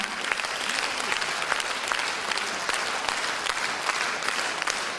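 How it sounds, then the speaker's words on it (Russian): Steady, full applause from a concert audience for the performers of the Grande rhythm ballet's 25th anniversary show, dense clapping continuing evenly throughout. "Эти аплодисменты вам."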